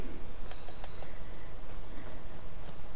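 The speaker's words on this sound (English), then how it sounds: "Rainy Skyrim." Steady rain in Skyrim, falling outside the Dark Brotherhood Sanctuary as a constant broad hiss, with no talk.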